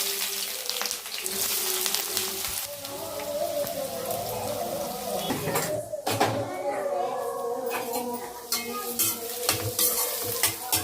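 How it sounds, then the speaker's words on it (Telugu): Sliced onion and green chillies fry in a hot pan for a fish curry, crackling and sizzling at close range with irregular stirring clatters, while a voice talks intermittently over the frying. "ఉల్లిపాయ పచ్చిమిర్చి వేస్తున్నాను"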